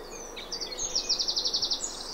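Several birds, including blue tit, chiffchaff, wren and robin, sing at once outdoors; a rapid, regular run of high repeated notes dominates, with other thin calls layered over faint background hiss.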